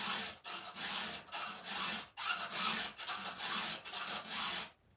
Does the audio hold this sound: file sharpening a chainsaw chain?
yes